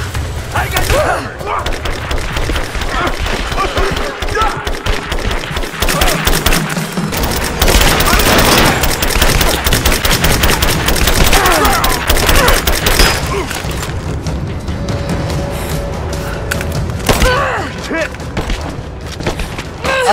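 Covering gunfire in the Rise of the Tomb Raider video game: loud, dense bursts of shots and impacts that run almost the whole time, mixed with game effects and some voices.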